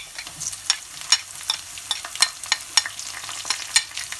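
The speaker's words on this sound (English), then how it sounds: "to this now I'm going to add the garlic and the tomatoes" Garlic and tomatoes stirred into browned onions in a hot pan, a low frying sizzle broken by a series of sharp scraping stirs and clicks every half second or so, close and alone without speech.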